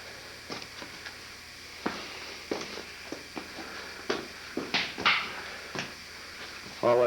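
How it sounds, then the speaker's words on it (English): Footsteps stumble up a rough, barely-there hillside path on the way to Embudo Cave, with scattered irregular crunches and knocks of kicked rocks, close but fairly quiet against a soft outdoor background. "All that noise you hear is me tripping and stumbling and kicking rocks over coming up this"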